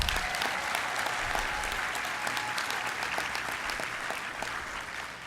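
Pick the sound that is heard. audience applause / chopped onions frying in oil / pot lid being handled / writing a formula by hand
audience applause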